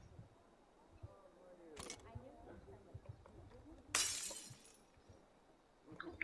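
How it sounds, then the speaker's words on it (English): Glass shatters in the poker video game Poker Night at the Inventory 2, a sudden loud crash with a bright spray of shards about midway, following a sharper snap earlier, over quiet background noise. "And he breaks the glass."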